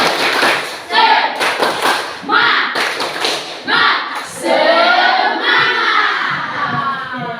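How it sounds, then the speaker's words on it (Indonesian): An Indonesian primary classroom doing a rhythmic spirit clap, with bursts of children's hand claps and thumps in a steady pattern amid loud crowd noise and children's voices calling out. "Ayo, tepuk semangat dulu ya."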